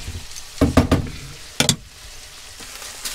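Minced meat and vegetables cooking in a pan inside a motorhome, with a low crackling sizzle broken by several sharp knocks and scrapes of a utensil against the pan, close and fairly loud.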